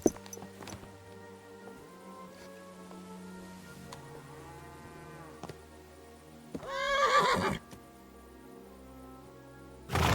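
A horse in the medieval video game Kingdom Come: Deliverance II gives a loud, rising whinny near the end, after soft hoof clip-clops and quiet ambient tones.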